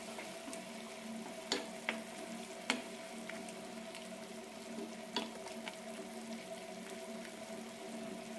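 Bitter gourd curry cooking in a pan, a low steady sizzle and simmer running throughout with a few sharp clinks and scrapes of stirring scattered across, close and fairly quiet.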